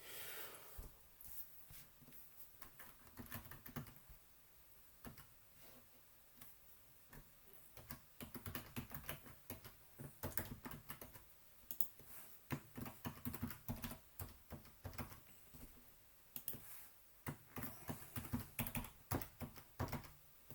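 A password is typed on a computer keyboard in quick, quiet bursts of clicking keystrokes, pausing between runs, heard close and alone with no talk.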